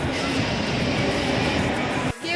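A local train at a Mumbai station gives a loud, steady rumbling roar close by that cuts off abruptly near the end.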